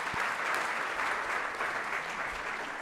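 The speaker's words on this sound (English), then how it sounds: "So round of applause." Conference audience applause, a steady, even wash of many hands clapping at moderate distance, sustained throughout with no voices over it.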